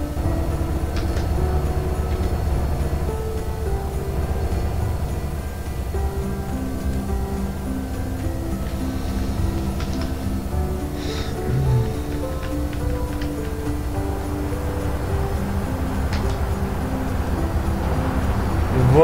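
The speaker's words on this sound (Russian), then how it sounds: "Товарный поезд." Freight train in the video game GTA San Andreas rumbles past in a continuous heavy drone with steady low tonal hum and faint rattling for nearly twenty seconds.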